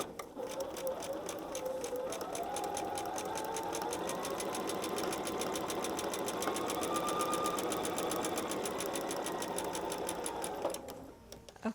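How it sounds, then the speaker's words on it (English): A sewing machine runs steadily for about eleven seconds, stitching along the line of a foundation paper piecing block and off the paper's edge. The rapid needle rhythm stays even and close, with no talk, and cuts off at the end. "we'll be starting right off of our paper, right off the edge, sewing directly on the line and sewing right off"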